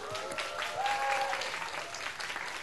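An audience at a K-pop comeback showcase claps together in a steady burst of applause, with a faint whistle or cheer rising briefly in the middle.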